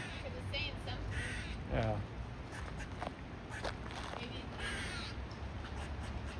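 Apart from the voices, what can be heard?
bird calling near lake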